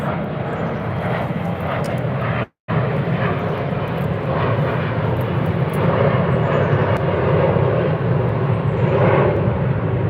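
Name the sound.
airplane passing overhead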